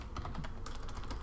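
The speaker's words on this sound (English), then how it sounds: "I can't type today" Rapid keystrokes clatter on a computer keyboard, a quick irregular burst of close, crisp clicks with no voice over them.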